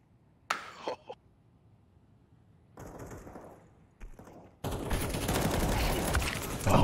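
Gunfire in Counter-Strike 2 during a match: a couple of sharp shots early, then bursts of shooting, ending in a sustained loud volley.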